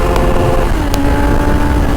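A KTM Duke 890 motorcycle engine runs loud and close, a steady rough mechanical drone with a slight pitch shift midway rather than sharp revs.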